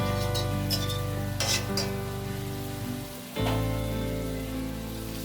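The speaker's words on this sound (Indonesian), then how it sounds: "ini kita goreng sampai peyeknya itu matang, sampai warnanya kecoklatan gitu" Rempeyek peanut crackers frying in hot oil in a wok give a steady, close crackling sizzle, with a brief scrape of stirring partway through and the bubbling continuing without talk.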